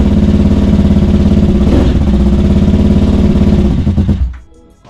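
A KTM 950 Supermoto motorcycle with its choke on runs close by, a loud, throbbing engine that rumbles steadily for several seconds, then cuts off abruptly and falls quiet.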